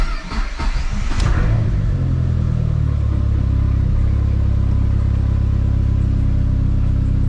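Dodge SRT-4 engine cranking and catching, then settling into a steady, loud idle rumble that continues alone for several seconds.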